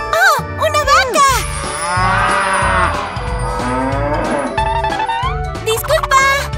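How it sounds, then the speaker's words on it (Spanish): A cow moos in a children's cartoon, a long, loud, drawn-out call up close, set among bright bouncy cartoon sound effects with no talking. "¡Oh, una vaca!"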